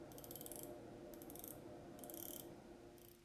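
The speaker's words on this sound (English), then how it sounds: "The action on the bezel is very heavy and feels like quality, with loud clicks." A Farr + Swit watch bezel turning with heavy ratchet clicks, heard as four short, quiet bursts of rapid clicking, close up against a low background hum.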